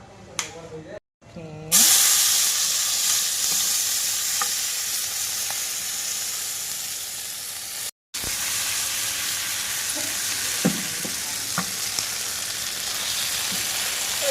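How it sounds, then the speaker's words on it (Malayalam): Marinated squid fries in coconut oil in a hot pan, giving a loud, continuous hissing sizzle that runs steadily for many seconds, broken by a couple of brief cuts and a few faint clinks. "നമുക്ക് എണ്ണ ഒഴിച്ച് അവനെ അങ്ങോട്ട് ഒന്ന് ഫ്രൈ ചെയ്തെടുക്കാം"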